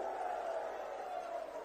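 A large crowd claps at a political rally, with broad steady applause continuing throughout, loud and close.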